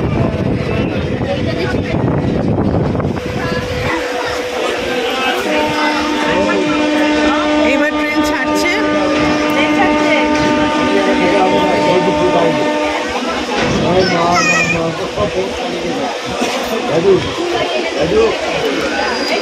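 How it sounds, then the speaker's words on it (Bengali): Train pulling out of a station, a long sustained horn tone over rumbling carriages and clattering wheels, with nearby passengers talking throughout. "ট্রেনটা ছেড়ে দিল এবার 2:05, একদম কারেক্ট টাইমে।"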